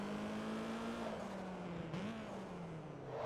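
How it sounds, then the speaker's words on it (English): A racing car engine in Forza Motorsport 2 on Xbox 360 drones steadily, its pitch sliding down then climbing again as it accelerates, with no talking over it. "very funny that this car sounds like an SR20"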